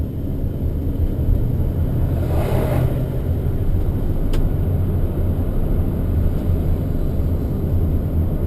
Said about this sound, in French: Oh, le joli bruit du moteur.